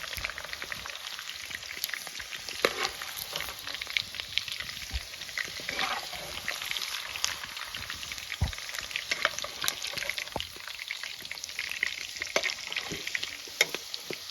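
Lotus stems fry in hot oil for a Kashmiri-style dish, giving a continuous dense sizzle with crackling pops and occasional stirring sounds, close and steady throughout with no talking.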